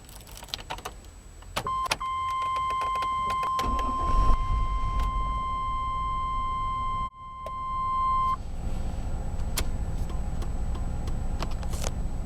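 A 1999 GMC Yukon with a 5.7L V8 starts up, with a short beep and a crank, then the engine catches and settles into a steady idle, heard close with no talk.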